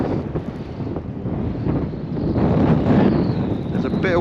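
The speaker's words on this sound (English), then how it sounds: "that wind's a nuisance" Gusty wind buffets the microphone on a pier at Town Quay, Southampton, a continuous close rumble and rush that swells louder toward the end, with faint background sounds beneath it.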